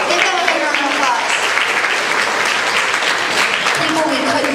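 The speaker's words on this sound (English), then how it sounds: "So give them a big round of applause." A dense, steady wash of audience applause fills a hall at a high school awards ceremony, loud and continuous with no pauses.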